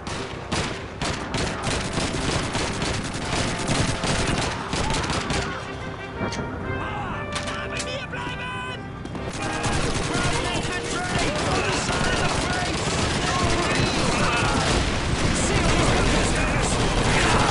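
Gunfire in Call of Duty 2 crackles as sustained bursts of rapid shots over a loud, dense battlefield din. A short quieter stretch comes near the middle, with voices mixed into the noise.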